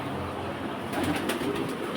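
Pigeons kept on a farm flutter and stir while being fed grain such as wheat and mustard seed, soft close bird sounds over a steady background hiss, busier in the second half.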